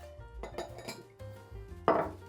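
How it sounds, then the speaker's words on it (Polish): Whisky being measured with a metal jigger and poured into a glass for a Japanese highball, heard as a few close clinks and taps of metal and glass, ending in a brighter ring, with no talk. "dodaje się dwie uncje, czyli 60 ml whisky bezpośrednio do szklanki"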